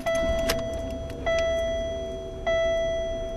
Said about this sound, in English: Turn the car on and see what happens here